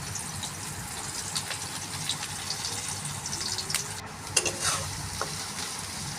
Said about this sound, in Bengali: এবার তেলের মধ্যে পেঁয়াজ দিয়ে দিলাম, পেঁয়াজ কুচানো।